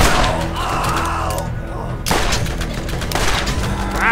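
Gunfire in Borderlands: continuous dense automatic bursts with rapid shots and loud impacts, heavy and close, with a brief lull midway before the firing resumes.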